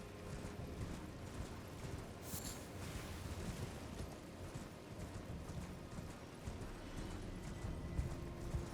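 Horse hooves pound steadily while galloping in Elden Ring, a continuous rapid clip-clop running under a dense, noisy game soundscape with rumbling ambience.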